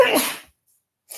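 A single sharp, loud sneeze during a livestream, followed by a brief silence and then a faint bit of sound at the end.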